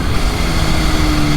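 A Kawasaki H2 motorcycle of 280 hp ridden on a road, its engine a loud, steady, close drone that holds at an even pitch with no pauses and no voices over it.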